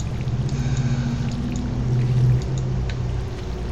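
A watering can splashes onto crops in the farming game Stardew Valley, a soft steady pour of water lasting a few seconds with faint background tones.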